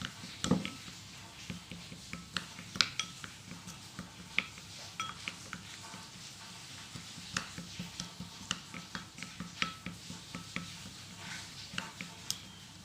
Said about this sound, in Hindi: हम इसको अच्छे से मिक्स कर लेंगे ताकि इसमें कोई गुठलियाँ ना रहें।